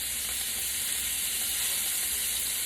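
Pancetta frying in a pan that is a little too hot for the Bolognese ragù, giving a steady, close, continuous sizzle with bright crackling hiss that holds evenly throughout, no talking.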